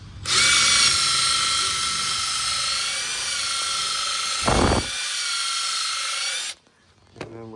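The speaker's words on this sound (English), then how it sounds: "now I'm gonna take a little brush on a little drill, clean out the inside" A high, steady whine of a small drill spinning a wire brush to clean a part, running loud and continuous for about six seconds, then cutting off abruptly.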